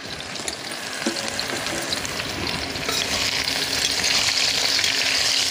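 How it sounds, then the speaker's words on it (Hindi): Chopped raw mango with garlic and chili fries in hot oil while being stirred. Loud, close, continuous sizzling and crackling builds slightly over several seconds, with no talking. "तो आम को चलाते हुए थोड़ा भून लेते हैं तेल में,"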